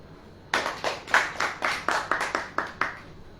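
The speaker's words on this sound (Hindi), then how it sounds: "ताली बजाएं।" A church congregation claps together in a steady rhythm, about a dozen sharp, even claps at close range with no talking over them.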